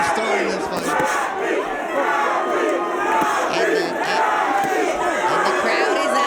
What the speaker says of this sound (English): And the crowd is at war.